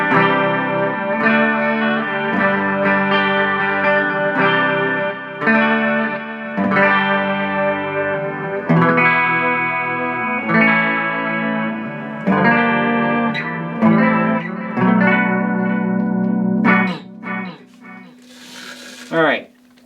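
Electric guitar on the bridge pickup playing a run of chords and single notes through a Line 6 Spider IV 30-watt amp, wet with reverb and effects, ringing out loud and ending in a fading tail.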